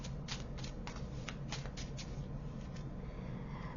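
Tarot cards are shuffled in quick riffling bursts, a rapid run of crisp papery flutters that thins out toward the end, close and soft against a quiet hiss.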